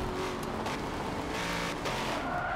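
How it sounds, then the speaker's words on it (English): Engine of a race car in Forza 7, driven with a MOZA R3 wheel on Xbox, revving steadily while drifting through a corner, loud and continuous with a faint tire squeal and no talk. "I'm gonna try and drift this last corner."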